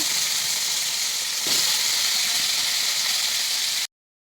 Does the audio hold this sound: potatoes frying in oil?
yes